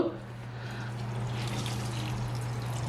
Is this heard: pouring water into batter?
yes